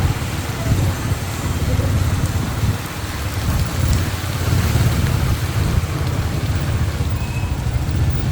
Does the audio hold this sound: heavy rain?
yes